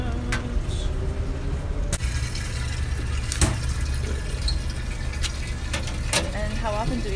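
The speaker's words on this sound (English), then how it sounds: "Rinsing. Pouring in the tubs." Water pouring into tubs while bottles are rinsed, a continuous splashing fill with scattered clinks and knocks, voices talking over it now and then.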